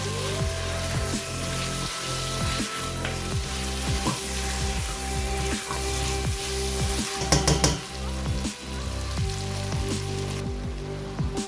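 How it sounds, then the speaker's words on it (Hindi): Mutton frying with tomatoes and green chillies, a loud, constant sizzle and bubbling hiss with rhythmic scraping stirs against the pot throughout. "टमाटर को भी हमने अच्छी तरह से मिक्स कर लिया।"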